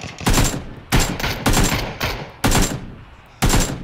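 Bursts of automatic AK rifle fire in the shooter PUBG, five sharp loud volleys in quick succession about half a second to a second apart, close and punchy with reverberant tails and no talking.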